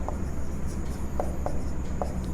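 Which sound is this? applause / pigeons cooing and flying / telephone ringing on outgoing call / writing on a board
writing on a board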